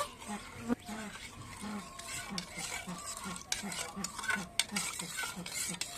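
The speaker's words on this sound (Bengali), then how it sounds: "এবার আমি খুব ভালো করে মিশিয়ে নেব" Salt and sugar for homemade ice cream are mixed briskly in a bowl, a utensil scraping and clinking in a steady repeating rhythm close by, with a voice now and then.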